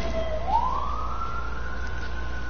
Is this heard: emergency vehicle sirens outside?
yes